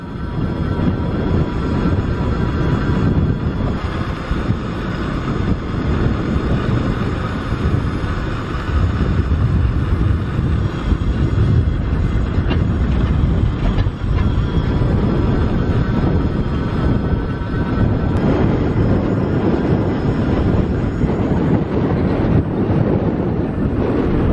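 An electric bicycle rolls along a semi off-road tractor path, with steady rumbling tire and wind noise buffeting the microphone throughout and a faint whine riding over it, no voices.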